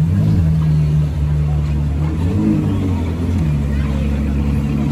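Ferrari 812 GTS with a Novitec tune, its engine drumming steadily and loudly close by in a street setting in Monaco, a deep continuous rumble with a slight swell, with a voice speaking over it.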